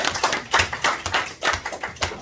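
An audience at a city budget briefing claps in a short burst, a dense patter of many hands with rhythmic swells, fairly close and with no talk.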